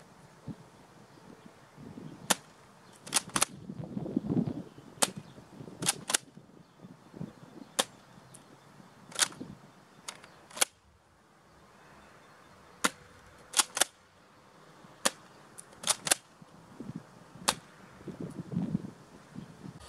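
A Nerf Fortnite SP-L silenced toy blaster fires darts in a string of sharp, dry snapping clicks spaced unevenly over twenty seconds, close and crisp against a quiet room with faint rustling between shots.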